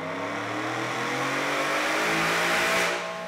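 A 2021-2022 Ford F-150 fitted with a Whipple W185RF 3.0L intercooled supercharger runs on a dyno in fourth gear on 93 octane, its engine revving steadily and loudly with a sustained rising roar that eases off at the end.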